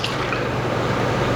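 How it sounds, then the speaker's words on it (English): Milk pours steadily into a bowl of cocoa and cornstarch mix, giving a continuous close liquid trickle and splash with no gaps. "And then you're just gonna mix in your milk."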